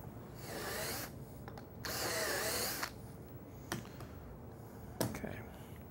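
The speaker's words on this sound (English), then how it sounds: "I'm just going to repeat the drilling for the other side." A drill press bores holes in a wooden cabinet panel, giving two longer whirring bursts followed by a few brief clicks and knocks, all fairly quiet in a workshop.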